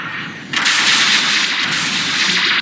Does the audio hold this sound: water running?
no